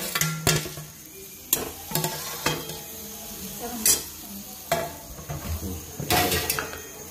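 Mutton curry with onion and tomato paste sizzles loudly in a pan, broken by repeated scraping stirs and clanks of a spoon against the metal, spaced every second or so with no one talking.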